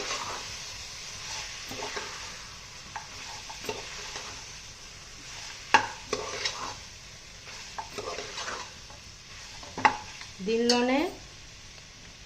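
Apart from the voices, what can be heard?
stirring prawns into frying mixed meat biryani masala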